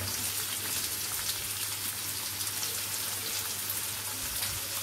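Chopped onion and green chili sizzle in a hot pan for egg bhurji, a steady, even frying crackle with no speech.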